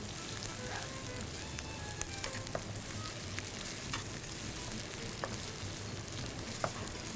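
Ginger and garlic fry in a pan for bhuna qeema, giving a steady moderate sizzle with scattered small pops and crackles, close and continuous, with no voices.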